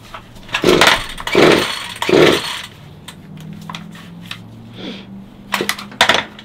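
A limb saw cutting in an old storage unit, three loud buzzing bursts in a row followed by quieter intermittent revving and a couple of short final bursts, close and alone.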